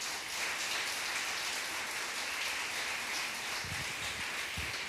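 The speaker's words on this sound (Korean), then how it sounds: "우리 주님께 영광의 박수 올려드리겠습니다." A church congregation claps during Sunday worship, a steady, dense wash of applause that holds evenly throughout, with no voices over it.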